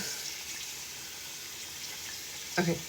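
Tap water runs in a steady, fairly quiet stream, a soft hiss lasting throughout with a brief louder splash near the end.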